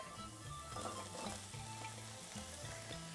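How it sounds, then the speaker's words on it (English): Diced potatoes frying with soft onions in hot oil, a continuous close sizzle with light stirring and low pan rumbles, quiet overall and without speech. "These onions are just soft, so I'm going to put in some diced potatoes."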